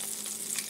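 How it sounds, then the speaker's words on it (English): One egg frying in a little butter in a medium-warm pan, a short, steady soft sizzle with a faint crackle, close by and with no voices. "Gonna fry this over medium."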